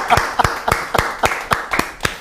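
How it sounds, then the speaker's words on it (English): An audience clapping for a teenage girl at a youth training session, about eight evenly spaced claps in a steady rhythm, fairly close and clear, with no talking over it. "Let's clap for her."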